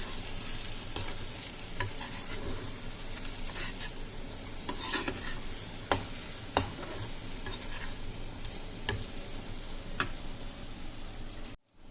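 A spoon stirs garam masala into an egg curry in a pan, making repeated sharp scrapes and taps against the metal over a constant frying sizzle.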